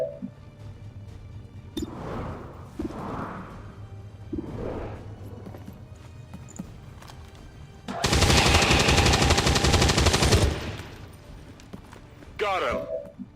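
Gunfire in the strategy game XCOM 2: War of the Chosen, a loud dense burst of shots in the middle, with someone talking before and after and a sharp final crack.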